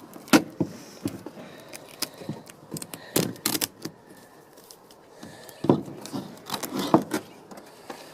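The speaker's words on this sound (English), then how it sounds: "getting some duct tape and taping it across the bottom of your rocket." Duct tape pulled and pressed across the bottom of a paper rocket, giving scattered short rips and crinkly handling noises at close range, with quiet gaps between bursts and no talking.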